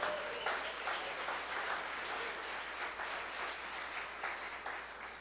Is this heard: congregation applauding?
yes